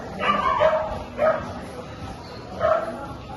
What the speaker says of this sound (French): Tous les chiens qui sont là.